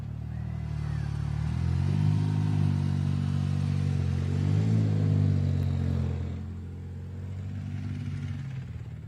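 Motorcycle engine revving hard in the pits during tech inspection for the Baja 1000 off-road race. The loud, close rumble climbs and falls through several revs, then drops to a lower idle near the end.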